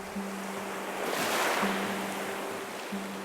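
Surf breaking on a rocky shore, a broad washing roar that swells to a peak mid-clip and eases off, with a steady low tone running underneath and no voices.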